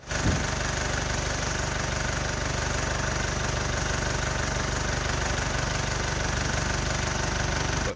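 A car engine with a cracked exhaust manifold runs at idle, a loud, steady droning rumble with a fast ticking rattle running through it, close and unbroken from start to end.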